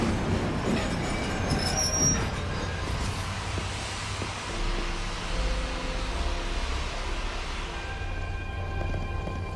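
A train passing in Lightning Returns: Final Fantasy 13, with a steady heavy rail rumble and faint wheel squeal that stays loud and close throughout, and no talking.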